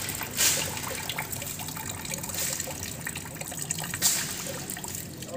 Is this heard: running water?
yes